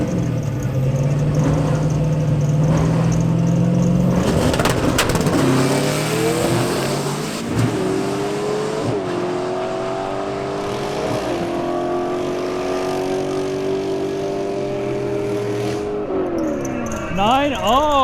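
Two stick shift cars launch in a drag race, engines revving hard and climbing through gear shifts with loud, sustained roaring, while voices and crowd noise are heard in the background.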